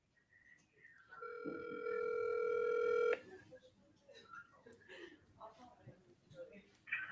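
A phone dials a call with a steady dial tone and a rising series of touch-tone beeps lasting about two seconds, cutting off abruptly. Voices talk quietly before and after it.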